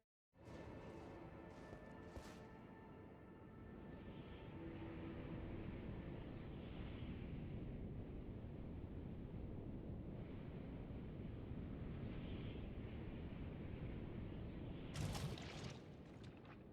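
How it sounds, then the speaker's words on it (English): Wind rushing in a violent updraft during a long drop in the video game Elden Ring: a loud, continuous roaring whoosh that builds and holds steady, with a few brief bright crackles near the start and end. "the only thing you can hear is the wind violently updrafting"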